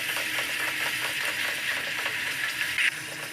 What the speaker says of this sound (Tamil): கைவிடாமல் கலந்து விட்டுட்டே இருக்கணும். சர்க்கரை நல்லா உருகி வந்துகிட்டே இருக்குது பாருங்கள்.